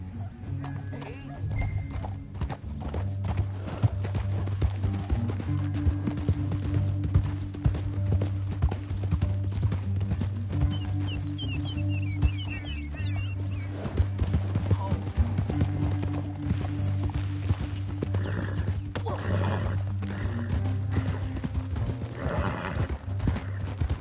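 Horse hooves clip-clop at a steady gallop in Red Dead Redemption 2, loud and close over a low rumbling bed, with occasional neighs and game voices talking over the ride.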